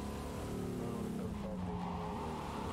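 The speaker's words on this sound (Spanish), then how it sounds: "al derrapar no frena nada, ¿eh? Solamente gira" A car in the video game Cyberpunk 2077 skids and slides while drifting, giving a continuous tyre squeal over a loud engine roar; a voice speaks faintly beneath the driving noise.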